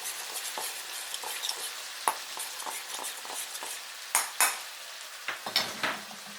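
Raw shrimp stirred with cornstarch in a bowl, giving a busy run of wet scraping and clicking against the dish with a few sharper clinks near the end, close by and with no talking.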